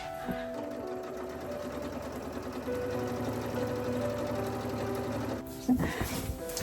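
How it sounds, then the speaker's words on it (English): Sewing machine stitching the overlapped edges of a giant fabric beanbag for a husky, a steady close mechanical whir of running stitches for about five seconds before stopping. "I lined up the 2 edges as they overlapped and then just stitched them together."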